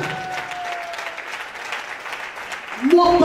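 Congregation in a church applauding, a dense wash of clapping for about three seconds before a voice cuts in near the end.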